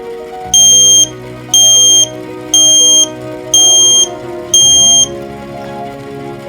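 An electronic alarm of a boiling water detector beeps loudly five times, each shrill tone lasting about half a second, evenly spaced over a low steady hum.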